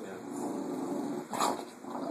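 A dog growls low and steady, close by, with a brief louder snarl partway through amid a chaotic household scuffle.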